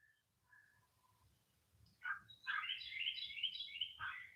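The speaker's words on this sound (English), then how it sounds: "Yeah, you hear the birds?" Birds in a garden: faint short chirps at first, then a louder run of bright trilling song lasting a couple of seconds, alone with quiet background.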